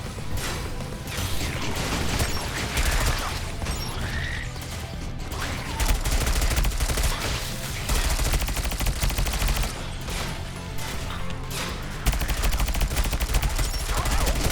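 An automated turret in the game Sentry fires in long rapid bursts, a loud mechanical rattling stream of shots that pauses briefly and resumes several times over a busy background of game noise.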